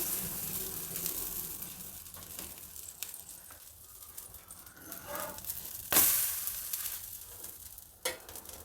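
A rice-flour roti cooks on a hot griddle, giving a soft, steady sizzle that swells in faint bursts, with a sharp hiss near the end as more moisture touches the pan; no voices.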